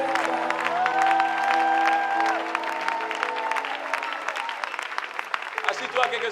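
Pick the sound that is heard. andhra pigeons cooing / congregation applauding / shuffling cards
congregation applauding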